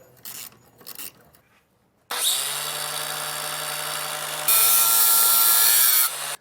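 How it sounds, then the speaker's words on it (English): An angle grinder with a cutoff wheel cuts hitch brackets off an RV frame, starting after a few faint clicks and then holding a loud, steady, harsh whine that jumps up in pitch partway through. "we ended up using a cutoff wheel and a grinder on both sides"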